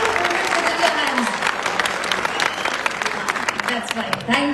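An audience at a stage event claps steadily for several seconds, a dense, close wash of overlapping handclaps with sharper individual claps popping out, while voices and crowd chatter mix underneath.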